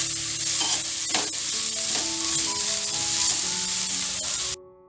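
Onions frying in a pan until browned give a bright, continuous sizzle, close and steady, with occasional stirring scrapes and knocks, then cut off abruptly near the end, with no voices.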